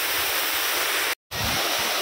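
A waterfall roars steadily, a dense, unbroken rush of falling water heard close up, with a brief complete dropout partway through before the torrent resumes.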